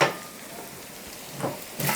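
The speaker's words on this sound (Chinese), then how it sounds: "这个梅干菜下锅以后啊，就这样慢慢的再翻炒一下哈，火要小一点。" Preserved mustard greens and pork stir-fried over low heat in a wok, a soft steady sizzle punctuated by a few scraping clanks of the spatula against the pan.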